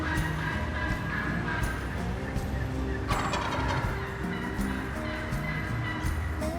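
Wild turkey gobbling during a fall shotgun-season hunt in western Kentucky, a rattling call that carries over a busy dawn chorus of other birds in woodland.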